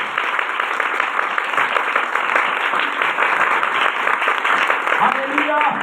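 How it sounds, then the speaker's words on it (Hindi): A church congregation claps loudly at a service. Dense, continuous applause fills the whole stretch at close range, and a voice begins to speak near the end. "आज तो कम से कम प्रभु के लिए जोरदार ताली बजाओ।"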